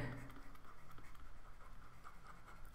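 Soft, close scratching of writing on a board, a continuous faint scrawl of strokes with a rhythmic texture and no talking.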